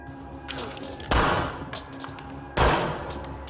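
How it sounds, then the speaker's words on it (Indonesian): Two sharp, loud gunshots about a second and a half apart ring out in a film scene set in a church, each with a short decaying tail over a quiet background. "lalu dia menembak si pendeta dan kabur dari gereja itu"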